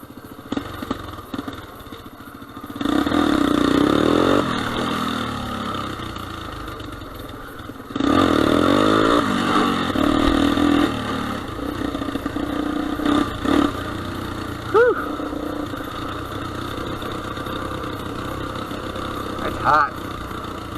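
A small four-wheeler engine revved in two loud bursts with the throttle raised, settling back to a rough idle between, with outdoor ambience and occasional blips throughout.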